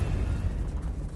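Confringo spell explosion in the Hogwarts Legacy video game, a dense low rumbling blast that holds steady and loud for about a second without clear decay.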